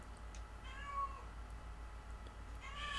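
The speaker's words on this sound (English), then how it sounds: "and that's Lola the cat" A cat in a guitar repair workshop meows a few times, soft and fairly close, over a steady low hum, with no talking.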